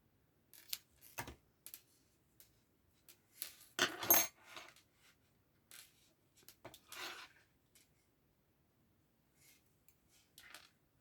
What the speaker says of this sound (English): Snip that yarn